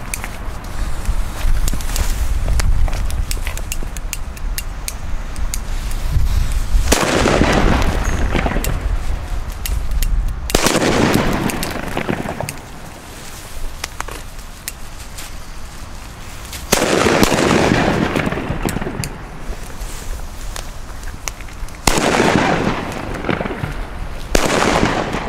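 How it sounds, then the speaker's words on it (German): Funke D firecrackers (China Böller) going off outdoors as a series of loud, sharp bangs spaced several seconds apart, each followed by a rumbling echo, over steady background noise. "Wir fangen an mit den D-Böllern, Funke D."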